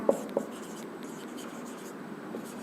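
Marker or chalk writing on a classroom board, with a couple of sharp taps followed by a continuous soft scratchy stroke, close and fairly quiet with no talking over it.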